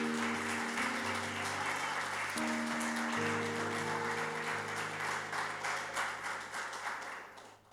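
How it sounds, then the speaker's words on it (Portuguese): A church congregation applauds steadily with dense clapping over sustained keyboard chords during a worship service, the applause gradually fading out at the end. "Pode dar uma salva de palmas para Jesus?"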